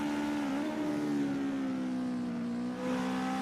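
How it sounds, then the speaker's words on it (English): A Legend race car engine drones steadily on a qualifying lap in a racing game at Ahvenisto, a close, sustained buzzing roar with a slight dip and recovery in pitch, no talking. "the roar of the engine"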